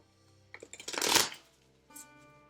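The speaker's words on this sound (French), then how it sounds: "moi j'adore mélanger les cartes comme ça et puis ça les mélange super bien en fait" Tarot cards shuffled by bending them, a brief close riffle that builds into a rapid fluttering cascade, followed a moment later by a soft tap, quiet and alone.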